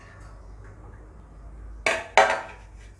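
A metal lid is set down on a pot of sabudana soaking in water, making two sharp clanks in quick succession close by in an otherwise quiet kitchen.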